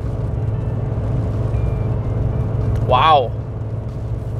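Cabin drone from a Chevy 1500 pickup with a 2.7L turbo four-cylinder, hauling 8,000 pounds up a grade at 3,200 RPM, a steady low hum, with a man's exclamation rising briefly over it near the end.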